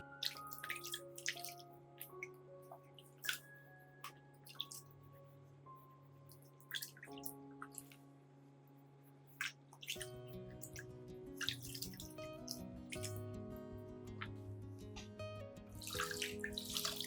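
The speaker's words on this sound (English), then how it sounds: "Rinse the entire plant with clean water to remove dust and any remaining bacteria." Clean water running and dripping over an orchid plant as it is rinsed, a steady trickle with scattered drips and splashes, close and fairly quiet, with no talking.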